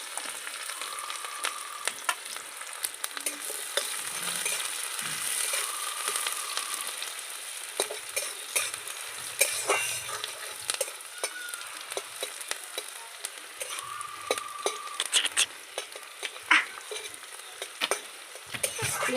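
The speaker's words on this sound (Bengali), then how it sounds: "পেঁয়াজটা একটু ভালো করে ভেজে নিতে হবে" Chopped onion and chili fry in hot mustard oil in a kadai, a steady close sizzle broken by occasional scrapes and clinks of stirring, with no talking.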